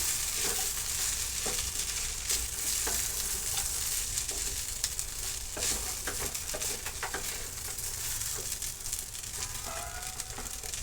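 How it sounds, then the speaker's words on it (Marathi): Kande pohe, Kolhapuri-style flattened rice with onion, sizzles steadily in a pan as it is stirred and mixed, with scattered scraping and clinking of the spoon over a constant frying hiss. "आता परत एकदा आपण व्यवस्थित मिक्स करून घेणार आहे."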